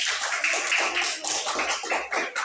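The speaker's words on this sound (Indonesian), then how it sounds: "tepuk tangan untuk Samuel" Children clap together for Samuel, a steady run of close, bright hand claps with no talking over them.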